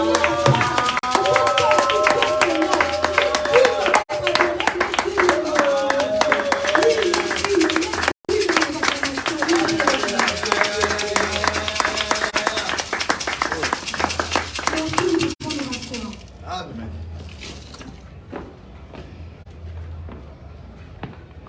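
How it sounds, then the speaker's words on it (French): A church congregation at an evening gathering claps and cheers for the king of glory, dense rhythmic clapping and crowd noise under singing and a leader's voice, fading out in the final seconds. "Est-ce que quelqu'un peut acclamer pour le roi de gloire?"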